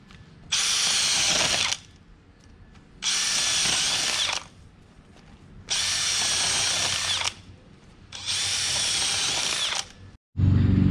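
A power drill with an auger extension bores planting holes for flowers in garden soil, four loud grinding bursts of about a second and a half each, separated by short pauses.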